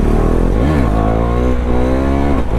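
KTM Duke 390 motorcycle with an Akrapovic exhaust accelerating on a ring road, loud and close, its engine note dipping briefly then climbing steadily as it revs up through the run.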